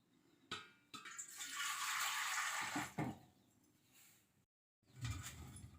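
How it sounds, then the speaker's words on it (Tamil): Water pours into a pot with a rushing splash for a couple of seconds, followed by a few clanks and a short pause, then another brief splash, while boiling gooseberries for jam. "அதுக்கு தேவையான தண்ணி ஊற்றிக்கலாம்"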